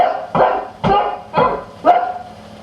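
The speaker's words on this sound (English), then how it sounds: "you could hear the dogs barking at a distance" Four sharp dog barks in an even rhythm, each with a slight echo, fairly close and clear.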